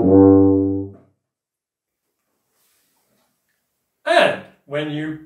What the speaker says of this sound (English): And the tuba.